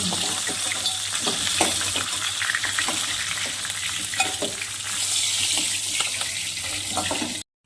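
Whole spices tempering in hot mustard oil left over from frying hilsa fish heads, a close, busy sizzle and crackle with scattered sharp pops, fading out abruptly at the end.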